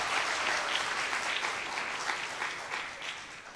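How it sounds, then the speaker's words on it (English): An audience at a secondary schools' drama finals applauds the competing schools with continuous, full-bodied clapping from many hands in a hall, sustained evenly with no speech over it. "So you could give the schools a round of applause"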